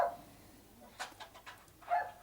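Several fox terriers bark faintly next door in the distance, a few scattered yips and woofs spread across a quiet background.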